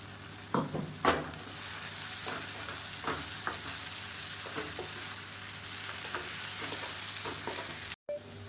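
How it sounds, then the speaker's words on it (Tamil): Raw plantain masala stir-fried with ground spice powder in a pan, a constant frying sizzle broken by repeated spatula scrapes and taps, strongest early, with one short dropout near the end. "இப்போ நம்ம பொடிச்சு வச்சுருக்க அந்த பொடியை சேர்த்துக்கலாம். சேர்த்துட்டு நல்லா வறுத்துக்கலாம்."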